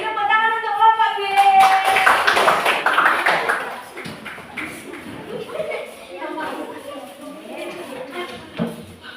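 Classroom applause for a student group, a burst of clapping and tapping hands mixed with children's voices, lively at first and then thinning out into chatter and scattered claps.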